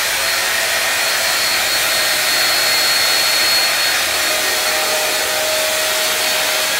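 A hair dryer blows continuously at close range, a steady airy roar with a faint high motor whine and no pauses.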